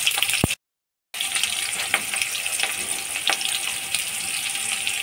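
Green chilies sizzle and fry in hot oil in a home kitchen pan, a steady loud crackle with a brief silent gap near the start, some stirring clatter, no talk.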